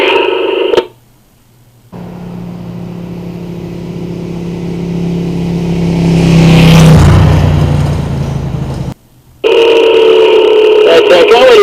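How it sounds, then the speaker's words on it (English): A motorcycle rolls along at about 25 mph in third gear on curving roads, a steady engine hum with a slow swell, broken by short radio-transmission beeps and tones, while a rider talks over it. "Now I'm in motion, doing about 25 miles an hour in third gear."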